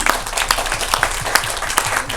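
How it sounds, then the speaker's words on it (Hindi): A seated audience at a reunion gathering on a cruise gives a burst of brisk, steady hand clapping, close and lively, with scattered individual claps standing out. "इसके लिए एक बार ताली दोबारा बजा देते हैं."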